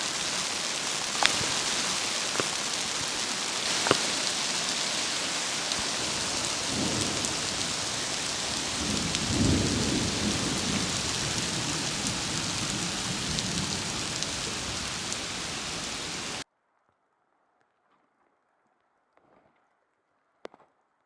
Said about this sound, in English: It is an absolute downpour.